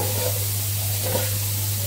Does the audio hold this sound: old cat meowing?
no